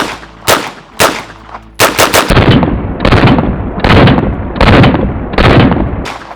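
MP5K and APC9K submachine guns firing outdoors, loud close bursts of rapid shots, with a few single shots first and then longer continuous strings of fire, each burst ringing out briefly.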